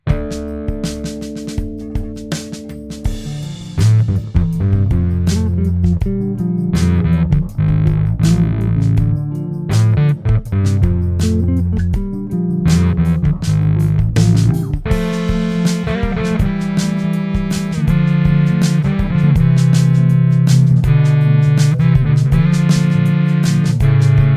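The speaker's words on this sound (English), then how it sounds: "let's see if you can hear a popular fuzz/distortion pedal emulation in the next song" A bass guitar plays a riff through a stomp box emulating a popular fuzz distortion pedal, thick and buzzing with sustained notes, loud and alone without any voices.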